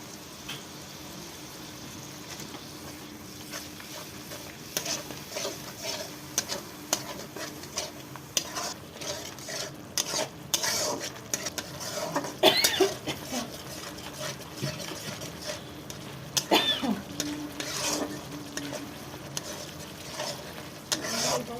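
A utensil repeatedly scrapes and stirs a masala of spices and turmeric in oil for a Bengali fish curry, with irregular clattering strokes against the pan over a low, continuous frying sizzle and no voices.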